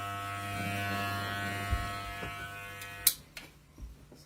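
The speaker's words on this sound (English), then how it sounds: "So most people will clipper up to that short" Electric hair clippers buzz steadily through a home haircut, a sustained motor hum with strong harmonic tones that shifts and tails off near the end as the clipper moves through the hair.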